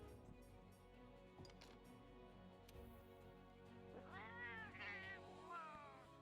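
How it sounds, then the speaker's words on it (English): Palico cat companion voice from Monster Hunter World, a few meows and cat calls clustered toward the end over quiet game background music. "I've always been a fan of the default Palico voice"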